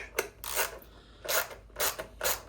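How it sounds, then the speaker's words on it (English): A ratchet tightens bolts during a vehicle backend install, giving four separate bursts of rapid clicking with short quiet gaps, close and fairly loud. "So I will get a ratchet to finish everything off."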